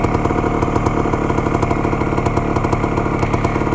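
Vintage Can-Am 250 TNT two-stroke motorcycle idling in first gear with the clutch held in, a loud, close, steady rapid engine putter with slight uneven pulsing and no talk.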